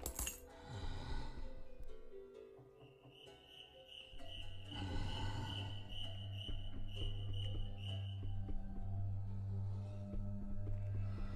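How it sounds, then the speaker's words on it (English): A cricket chirps in a video game, a thin repeated high trill running through the middle of the passage amid layered ambient game sounds and a low droning tone that grows louder toward the end. "you might hear a new sound here. A little kind of a cricket."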